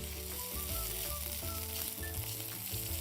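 One teaspoon of ginger garlic paste sizzles loudly and steadily with nearly cooked onions in a hot pan, a dense, continuous frying hiss with no talking.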